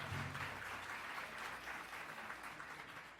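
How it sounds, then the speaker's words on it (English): An audience at the 2023 National Native Media Conference opening ceremony claps steadily, a dense, even wash of applause from a large crowd in a hall, with no speech. "let's just give some warm blessings and another round of applause"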